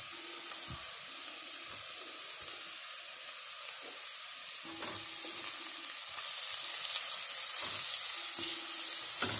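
Julienned carrot and bell pepper sizzle steadily in a frying pan, a soft continuous crackle with occasional stirring clinks and no voices.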